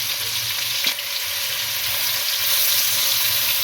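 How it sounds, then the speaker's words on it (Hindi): Two medium chopped onions frying in hot oil for a chicken salan, giving a steady, close sizzle with a brief stir partway through and no talking. "2 मीडियम प्याज जिनको मैंने ब्रीक चॉप कर लिया वो इसमें डाल दें और प्याज को फ्राई कर लें"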